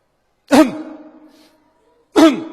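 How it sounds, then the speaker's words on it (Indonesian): A man demonstrates clearing his throat: two sharp, close throat-clearing bursts about one and a half seconds apart, each tailing off with a short rasp, in an otherwise quiet room. "Gimana cara berdehem yang benar?"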